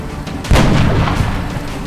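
Gunfire and rocket fire in the XCOM Long War video game: a loud boom bursts in about a third of the way through, then rolling rumbling fire and crackle trailing off with no talk.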